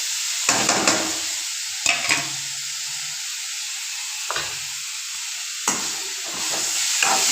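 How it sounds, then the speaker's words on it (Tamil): Banana pieces fry in hot ghee for a banana sweet, giving a steady close sizzle broken by a few louder stirring scrapes, with no talking. "இப்போ வாழைப்பழத்தையும் லைட்டாக நெய்யை ஊற்றி ஒரு வறு வறுத்துக்கலாம்"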